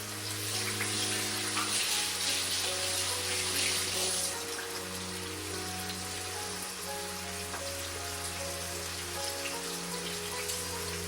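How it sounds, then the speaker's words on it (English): Tap water running at a kitchen sink while hands are rinsed, a soft continuous splashing stream over a low background hum, fading slightly partway through. "I'll rinse my hands off real quick"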